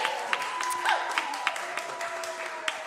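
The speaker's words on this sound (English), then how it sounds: "Timing is so different when you have to wait for an audience to clap." An audience at a livestream concert claps sparsely and faintly, with scattered individual claps over a low sustained tone.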